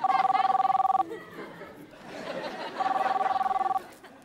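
Telephone ringing at a hotel inquiry desk, two loud electronic ring bursts about a second long separated by a pause, with chatter and laughter in between.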